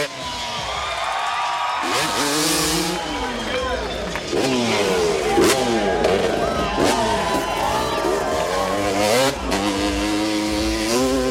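Freestyle motocross motorcycle engines at a Gravity Games event, buzzing and revving in rising and falling sweeps beneath continuous commentary, with crowd noise in the background.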